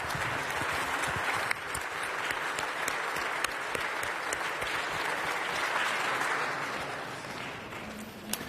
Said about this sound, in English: With your warm applause, please thank our excellent panelists for their remarks.